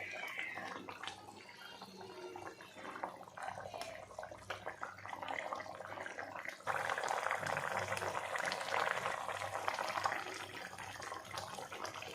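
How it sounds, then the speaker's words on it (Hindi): Nepali-style masala fish curry with pomfret simmers in a pan on a gas stove, a soft continuous bubbling and hiss that swells louder midway, with faint kitchen noise beneath. "पानी रे बबुल आसला परे"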